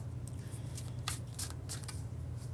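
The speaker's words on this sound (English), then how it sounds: "3 more shuffles, and we're going to get right on in to the bridge shuffle" Tarot cards are shuffled by hand in quick bursts of riffling and slapping during a reading. The crisp, close flutters come in several short clusters over a low steady hum.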